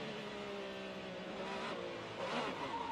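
A race car engine revs under throttle, a steady mid-pitched motor drone with harmonic whine that swells slightly toward the end, heard alone and fairly faint as if from a distance.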